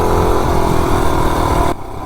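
A 98cc billet, cammed mini bike engine revs hard and loud at close range, a buzzing high-pitched drone that holds steady, then drops off sharply near the end.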